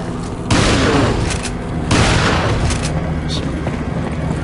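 A shotgun fires in Resident Evil 4 with two loud, booming blasts about a second and a half apart, each trailing into a rumbling decay amid game noise.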